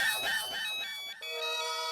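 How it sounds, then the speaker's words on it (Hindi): A ringtone sounds with bright tonal notes, continuing steadily after some brief chatter fades out. "मेरा फोन बज रहा है।"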